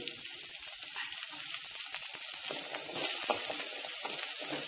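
Chopped onions hit hot oil and fry with a dense, continuous crackling sizzle that swells a little louder toward the end, heard up close with no talking.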